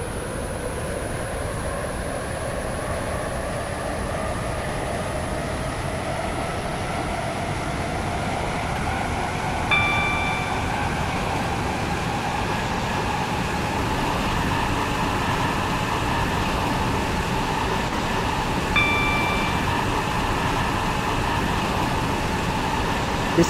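Steady rumble of a WaterLine passenger train under way toward Newry, with continuous rolling and wheel noise throughout and two brief high tonal squeals or chimes about ten seconds apart.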